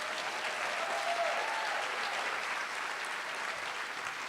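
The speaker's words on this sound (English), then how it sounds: "Please give us a round of applause." Dense audience applause fills a film festival venue, the Martha's Vineyard African American Film Festival, a sustained crowd clapping that stays loud and even throughout with no speech.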